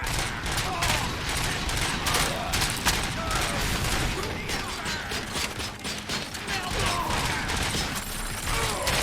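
Combat in the video game RoboCop: Rogue City, a dense, loud barrage of rapid bangs and crackling explosions, as from a thrown firecracker, with mechanical clatter running continuously underneath.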